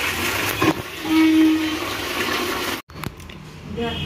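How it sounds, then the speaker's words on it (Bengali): Running water splashes steadily while fish are washed at a household tap, a continuous close rush that stops abruptly near the end before resuming more quietly, with someone speaking over it. "আর নুড়িদি এখন তোমার এই যে মাছ টাছগুলো ধুয়ে দেবে।"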